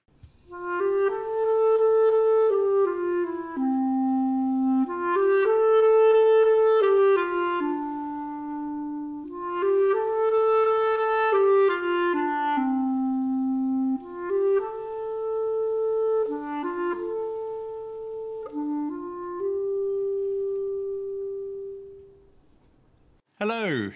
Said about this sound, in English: I play the clarinet, and it sounds like this.